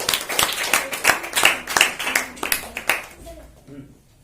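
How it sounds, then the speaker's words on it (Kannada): An audience at a stage quiz show claps for a team called up to the stage, a burst of close, sharp handclaps that thins out and fades over a few seconds. "ಆ ತಂಡದವರು ವೇದಿಕೆಯ ಮೇಲೆ ಬರಬೇಕು. ಜೋರಾಗಿ ಚಪ್ಪಾಳೆ."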